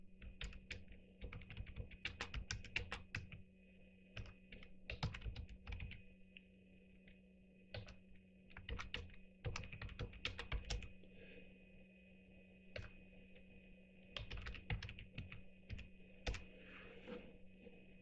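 Bursts of quick typing on a computer keyboard, faint and close, with short pauses between clusters of key clicks over a low steady hum.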